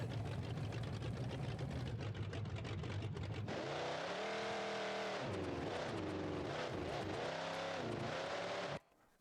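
A Black Magic monster truck in BeamNG.Drive, fitted with custom extra-loud engine sounds, roars continuously up close, its revs rising and dipping in waves before cutting off abruptly at the end.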